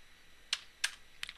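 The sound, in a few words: typing commands on a computer keyboard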